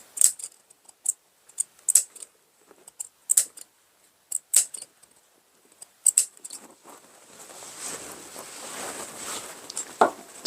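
Scissors snip notches into the seam allowance of a princess-style dress, a series of crisp, close metallic cuts in uneven rhythm, followed by a softer rustling scrape of fabric being handled.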